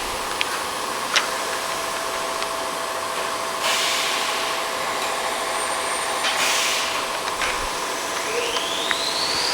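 An SMTCL SMVMC1600B50T vertical machining center running a program, producing a steady loud whine and hiss with a few swells of air and coolant blasts and faint tonal sweeps near the end, no talking.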